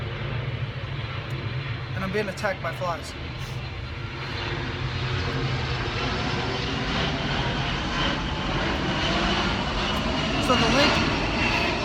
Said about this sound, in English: There's another plane coming through, so you might not be able to hear me.